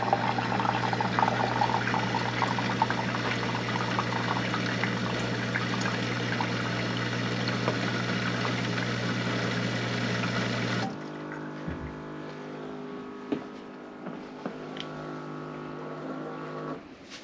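A Capsule countertop dishwasher drains mid-cycle with a steady churning rush of water and a pump hum for about eleven seconds, then drops to quieter trickling, hum and occasional clicks.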